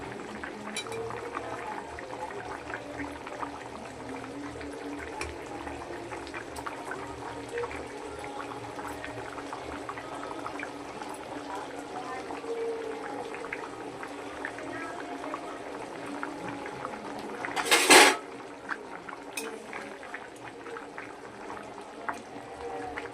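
Fish curry gravy with potato and pointed gourd, made for rohu fish, bubbling at a steady low boil, with a continuous soft burbling that has a brief louder splash or clatter near the end.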